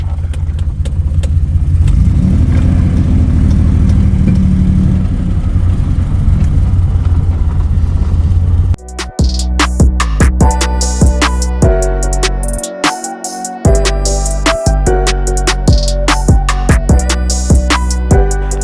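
A project truck's engine runs and drives, starting as a steady loud drone and then breaking into a dense stream of sharp clatters and mechanical knocks over the constant engine hum, with no talking.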